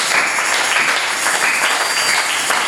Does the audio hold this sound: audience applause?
yes